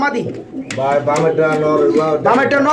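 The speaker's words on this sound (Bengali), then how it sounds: "আপনারা ধৈর্য সহকারে ভিডিওতে কবুতরগুলো দেখার চেষ্টা করবেন" Domestic pigeons, kept in pairs for sale, coo in soft repeated murmurs close by while people talk over them.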